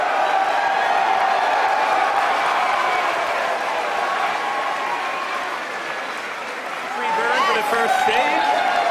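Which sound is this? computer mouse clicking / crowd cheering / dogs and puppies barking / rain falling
crowd cheering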